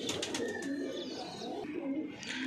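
A Punjabi Malwai pigeon coos steadily and close by, with soft chirps over a constant low background hum.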